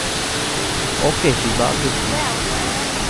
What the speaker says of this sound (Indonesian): Di sini aku juga lihat ada air terjun yang lain